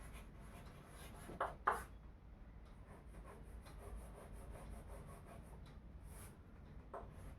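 Marker or chalk strokes on a board during a lecture give soft scratchy rubs, with two louder strokes early on and lighter scraping afterward, close and quiet with no talking.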